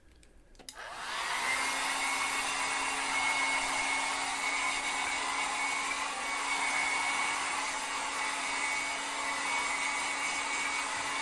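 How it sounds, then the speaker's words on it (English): A hair dryer starts with a click, then blows a loud, steady whir with a constant tonal hum for about ten seconds, with no talk over it. "I'm gonna blow dry your hair now too"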